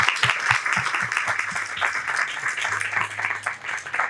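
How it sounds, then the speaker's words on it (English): Audience applause after a book festival author interview, dense sustained clapping from a crowd at steady volume through the whole stretch, with faint voices mixed in beneath it. "So let's all give David a round of applause."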